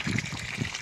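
Spring water trickling and splashing while someone washes at a natural source, a close, steady burbling with soft splashes and no talk.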